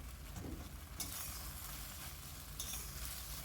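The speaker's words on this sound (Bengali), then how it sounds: "এবার ভালো করে মিশিয়ে নিচ্ছি" Fried cauliflower is stirred into thick Manchurian gravy in a pan, a steady scraping and soft sizzle running throughout with brighter stirring bursts near the start and again toward the end.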